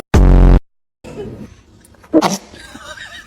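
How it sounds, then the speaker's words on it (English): A short, loud, buzzy fart sounds at the start, followed by a pause and then faint laughter and light vocal sounds. "Did you fart too?"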